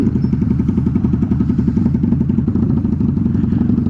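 Motorcycle engine droning steadily while riding along an open country road, a loud continuous pulsing rumble with no break throughout.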